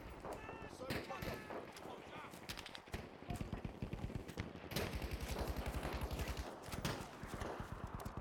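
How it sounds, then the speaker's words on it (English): Machine gun fire in the World War II shooter Battlefield V, with rapid bursts and scattered shots amid battle noise, partly under someone talking. "enemy machine gunner over there"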